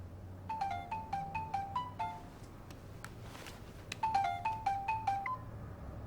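A phone rings in a quiet room, repeating a bright electronic ringtone pattern in two bursts separated by a short pause, with no talking over it.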